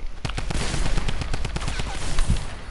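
Rapid bursts of gunfire in a first-person shooter game, loud repeated sharp shots in a fast irregular rhythm across the whole stretch, with a heavier blast near the end.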